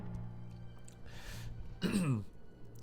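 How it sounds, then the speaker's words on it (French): A single throaty cough from a drink gone down the wrong way, close and fairly loud, after a moment of soft breathing. "si j'ai toussé, c'est parce que j'ai bu un coup et j'avais de travers"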